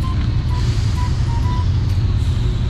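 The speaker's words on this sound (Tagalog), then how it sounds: "Truck." A truck idling and moving near a stoplight at a crossing, a loud continuous low engine rumble with faint intermittent beeps over it, heard from close by in light rain.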